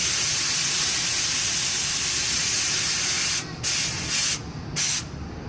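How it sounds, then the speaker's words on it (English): A truck's air tank is drained and its air brakes bled down, releasing a loud, continuous hissing spray of air and moisture that then breaks into several short bursts toward the end. "This is getting rid of all the moisture in our air tank."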